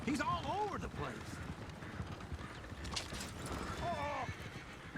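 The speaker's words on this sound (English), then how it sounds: "Oh, shit, the horses! Damn horses!" Horses in the Red Dead Redemption 2 game town of Valentine: hoof clip-clop and a couple of whinnies around a stagecoach, heard under constant talk and street bustle at moderate distance.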